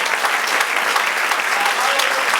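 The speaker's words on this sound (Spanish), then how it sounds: "Dele aplauso al Señor." A congregation claps during a Spanish-language evening church service, dense continuous applause filling the room at a steady loud level throughout, with no words spoken.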